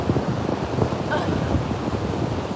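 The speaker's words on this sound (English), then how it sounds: "It's so windy." Strong wind buffets the microphone in a constant, loud roar with gusty rumbling, no other sound standing out.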